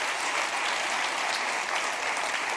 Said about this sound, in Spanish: Dele otro aplauso al Rey bendito.